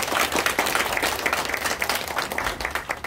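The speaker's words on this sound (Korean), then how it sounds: "참석하신 내빈분들께 다시 한번 큰 박수 부탁드립니다." Steady applause from guests at a Korean welfare-center network agreement signing and declaration ceremony, many hands clapping densely and evenly throughout at moderate loudness, with no voices over it.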